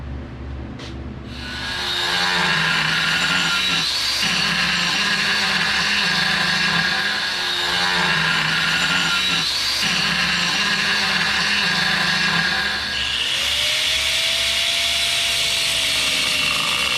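A power tool cuts through a bent outboard boat skeg, its loud steady grinding whine holding for most of the stretch with brief dips as the cut progresses, then shifting pitch near the end.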